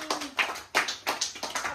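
A little girl claps her hands at a birthday celebration: about six quick, close, light claps in an uneven rhythm, heard alone without talk.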